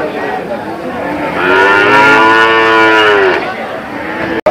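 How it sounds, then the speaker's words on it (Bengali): Cattle at a rural village cattle market near Dhaka, with a single long, loud moo rising from a bull close by over a murmur of market background noise. "আপনাদেরকে একটু বড় বড় গরুগুলি দেখাচ্ছি।"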